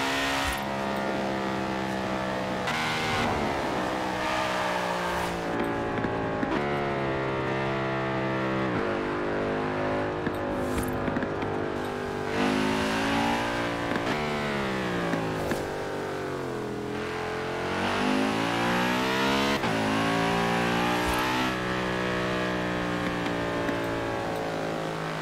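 An Audi race car in Forza Horizon 4 revs and accelerates continuously, its loud engine rising and falling through gear changes with pops and crackles, heard alone without music or talk.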